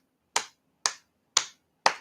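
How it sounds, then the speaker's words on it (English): Four crisp hand claps, evenly spaced about half a second apart, close and isolated against silence, like clapping along to a beat at a live show. "when you clap your hands while the music follows"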